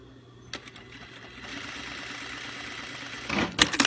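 A home sewing machine runs steadily as it stitches black stretch binding onto fabric, a close, even, rapid mechanical whir that builds slightly and ends with a few louder clicks and clunks.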